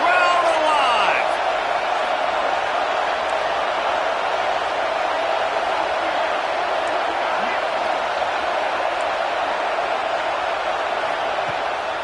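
A large stadium crowd roars steadily at an FSU vs Arkansas football game, a dense continuous wall of cheering that stays loud throughout.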